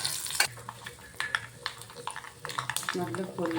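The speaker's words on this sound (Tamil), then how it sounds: "நல்ல பொரிஞ்சு வந்துடுச்சு கடுகு வெந்தயம் வெங்காயம்" Mustard seeds, fenugreek and onion crackle and spit in hot oil with sharp little pops for a river fish curry, while a utensil scrapes and stirs through the pan; a voice may murmur faintly in the background.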